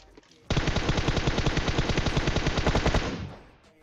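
Rapid, sustained automatic gunfire in PUBG Mobile, loud and close, firing steadily for about two and a half seconds before trailing off.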